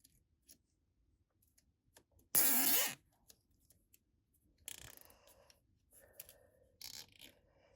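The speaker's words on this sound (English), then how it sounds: "And I'm going to put the zip tie on right there." A plastic zip tie is fitted onto a pendant lamp cord near the socket and pulled tight, giving a short loud ratcheting zip followed by sparse clicks and handling rustles in a quiet room.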